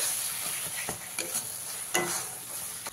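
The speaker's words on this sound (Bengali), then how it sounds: "সর্ষে আর কাঁচা লঙ্কা বাটাটা দিয়ে খুব ভালো করে একবার মিশিয়ে নেব" Mustard and green chili paste is stirred into masala frying in a pan for kochur loti, with a steady close sizzle under a few scraping stirs of the spoon.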